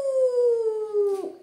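A person imitates a wolf howling at the moon, giving one smooth, sustained, slowly falling tone that breaks off abruptly near the end, heard alone and close.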